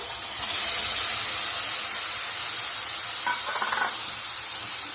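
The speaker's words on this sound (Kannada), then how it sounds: "ಒಂದು ರೌಂಡ್ ಸ್ಟಿರ್ ಮಾಡಿ" Curd being stirred into sambar in a pot with the gas off, a steady hissing wash with soft scraping and a brief clink of the spoon near the end.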